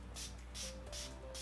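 Urban Decay All-Nighter setting spray misted from a pump bottle in four short hissing bursts at an even rhythm, quiet and close, with no talking.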